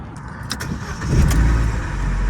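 A 2016 Opel Corsa E engine cranks and catches, then settles into a low steady rumble, loud and close, with no voices.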